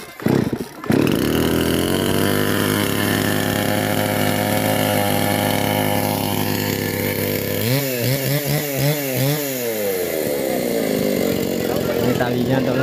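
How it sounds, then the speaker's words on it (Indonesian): A chainsaw engine used for felling a coconut tree runs loud and close, a steady high-revving buzz after starting with a burst, then pulsing revs as the throttle is blipped toward the end. "Gunakan mesin sengsu."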